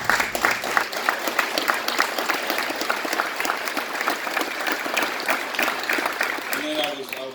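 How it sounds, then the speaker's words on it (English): Audience applause fills a large room at an event honoring a coach, a steady dense clapping from a crowd that holds without pause from start to finish. "Can you please stand and please give her a round of applause."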